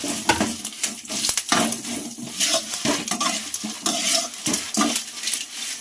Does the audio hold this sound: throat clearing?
no